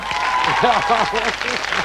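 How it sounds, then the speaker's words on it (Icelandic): A studio audience applauds on a 1997 Icelandic Saturday-night TV entertainment show, steady dense clapping that fills the whole moment while a voice carries on over it. "Klappa svo."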